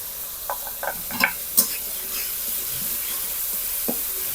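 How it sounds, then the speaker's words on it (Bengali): Ginger garlic paste is added to onions already frying in a pan, with a steady broadband sizzle and a few brief scraping stirs near the start, close and moderately loud with no talk. "পেঁয়াজ ভাজা হয়ে গেছে, এবার দিয়ে দেবো আদা রসুন বাটা।"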